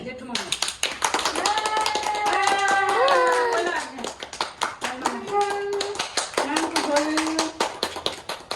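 Hands clapping in a family setting at a Mother's Day celebration, a quick run of claps heard under lively talk and a voice that continue over most of the clip.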